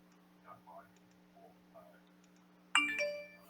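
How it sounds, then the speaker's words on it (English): Phone notification alert chiming suddenly and loudly with bright tonal beeps, after quiet background with faint scattered sounds and a steady hum. "Oop, that was my notifications."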